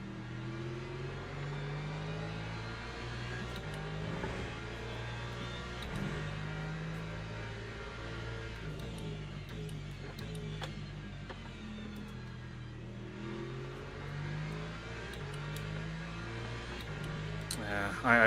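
A McLaren race car in the racing game Le Mans Ultimate holds a steady engine drone that climbs through the gears, loud and continuous for the whole stretch.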